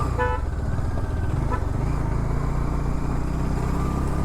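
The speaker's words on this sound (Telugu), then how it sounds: "సౌండ్ కూడా కొంచెం లౌడ్ ఉంటుంది బైక్ది" A Bajaj Dominar motorcycle rumbles steadily while being ridden, its low engine drone continuous, with a short horn toot from traffic near the start.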